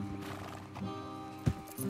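Horses in the video game Red Dead Redemption 2, with a short snort or whinny and soft hoof and tack sounds over a steady ambient background, one sharp burst near the end.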